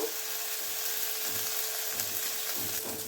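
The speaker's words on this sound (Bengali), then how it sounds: "রসুন কাঁচা লঙ্কাটা আমি একটু ভেজে নেব" Garlic and green chili frying in oil with turmeric and a splash of water, a steady broadband sizzle that stays loud and constant throughout, close up, with no talking.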